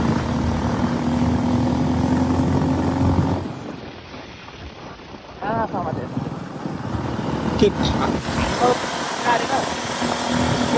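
A motorcycle engine drones steadily, drops away for a few seconds while people talk, then revs back up under continued voices.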